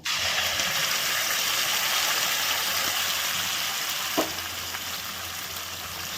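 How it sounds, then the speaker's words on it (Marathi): Ground masala fries in oil in a pan, giving a steady, loud, close sizzle with a brief knock near the end. "यात आपण हा मसाला केलेला हा फ्राय करून घ्यायचा तेल सुटेपर्यंत"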